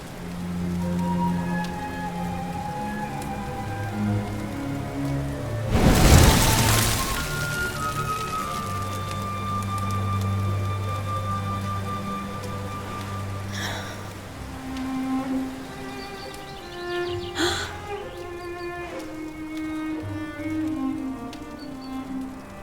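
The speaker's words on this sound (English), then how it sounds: "Looks like the rain's dying down." Steady rain patter in Dragon Quest XI runs throughout alongside soft game-style music tones, with a brief louder crash-like burst early on.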